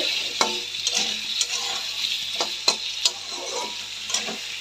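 Onions and potatoes fry in hot oil with a constant close sizzle, broken by scattered clicks and scrapes of a spatula stirring.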